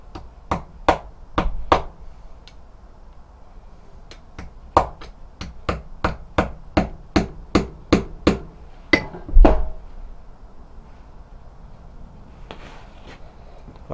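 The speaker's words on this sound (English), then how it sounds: "I'll try hammering this down as far as it goes now then" Sharp, ringing hammer strikes on a metal spoon being shaped into an arrow broadhead land in quick bursts, a few at first, then a steady run of evenly spaced blows, with one duller thud near the end.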